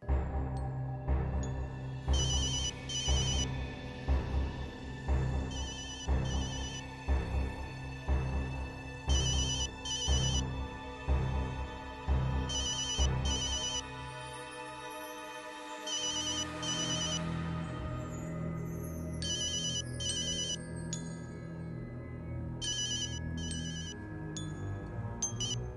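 A phone rings with an incoming call, its electronic ringtone repeating in regular bursts for most of the clip, loud and close, with a pause near the middle before the rings resume more faintly; no one speaks.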